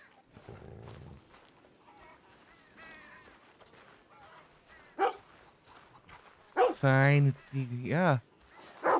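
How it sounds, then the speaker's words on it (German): A dog in Red Dead Redemption 2 lets out several loud, sharp barks with whimpering yelps in the second half, after quieter sounds and someone talking. "Das ist ein Hund."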